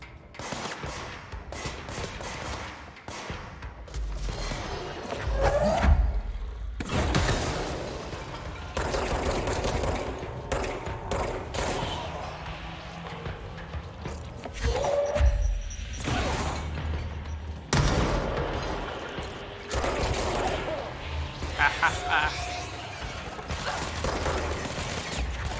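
Gunfire in the game Control: repeated bursts of shots and impacts run through the whole stretch at steady loudness, with crashes and mechanical clatter mixed in.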